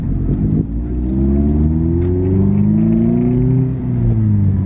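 A 2016 Mazda Miata cruises around a parking lot, its engine humming steadily and rising in pitch as it revs and accelerates, heard loud and close with no talking.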